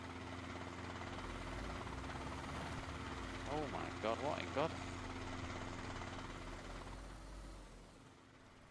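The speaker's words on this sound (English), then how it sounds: "The helicopter's not going to land on my head now, is it, while I'm reversing back?" Helicopter in the DayZ video game drones steadily overhead as a low rotor hum under the whole stretch, while a man reacts aloud in surprise midway.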